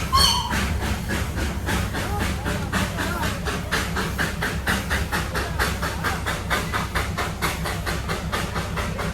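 The Darjeeling toy train pulls away, giving steady rhythmic chuffing bursts of steam over a low rumbling engine and hiss, heard from nearby at a constant loudness throughout.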